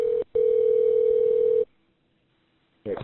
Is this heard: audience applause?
no